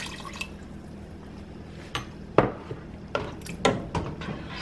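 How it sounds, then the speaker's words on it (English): Water added to a pot of gumbo mix, a handful of soft drips and splashes landing at irregular intervals over a low kitchen background hum, with no talking. "So what I'm going to do is I'm going to add a little bit more water to it. So just add about 1 more cup of water."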